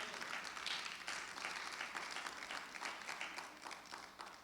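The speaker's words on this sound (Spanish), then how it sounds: "¿Cuánto le dan un fuerte aplauso al Señor" A church congregation claps in a sustained round of applause, dense and steady, tapering slightly toward the end, heard from a distance and fairly quiet.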